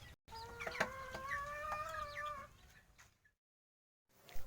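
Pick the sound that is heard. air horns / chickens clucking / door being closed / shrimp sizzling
chickens clucking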